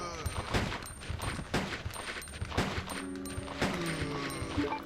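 Repeated shotgun blasts from Resident Evil 2 boom out in a steady series with mechanical pump clacks between them, set against a loud, busy game soundscape of zombies closing in.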